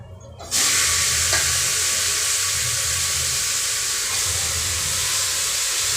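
Meat drops into a hot pan and breaks into a loud, sustained sizzle that starts abruptly and stays steady and close throughout.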